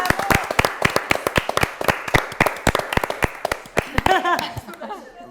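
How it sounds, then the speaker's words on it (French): A studio audience applauds a blueberry pie at a baking challenge, with dense, lively clapping from a small group close by and a few chuckles as the applause tapers. "on peut l'applaudir vraiment, bravo"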